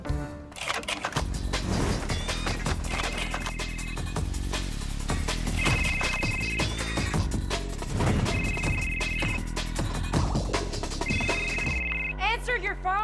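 A telephone rings in repeated electronic bursts, four evenly spaced trills over a busy background of music and voices, ending with a sudden harsh tone.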